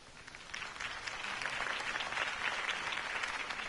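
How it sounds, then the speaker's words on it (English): Sustained crowd applause after a campaign speech in a Batman video game, a steady dense wash of clapping that holds for several seconds without pause, loud and fairly close, with no speech over it. "If only Mr. Wayne, my campaign's largest backer, could have heard that applause"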